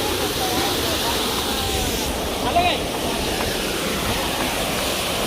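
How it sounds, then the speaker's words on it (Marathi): A small roadside waterfall pours with a steady, broadband rushing hiss that holds at an even level throughout, close and loud, with no clear talk over it. "हा आहे वॉटरफॉल."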